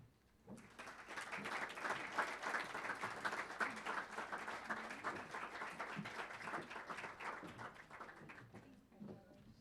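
An audience at a realtor association installation and awards event applauds its award recipients, a steady wash of many hands clapping that rises quickly, holds for several seconds and then tapers off, heard fairly close.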